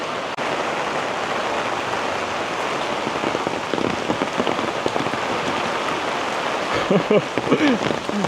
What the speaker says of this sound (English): you will see how it looks when it is raining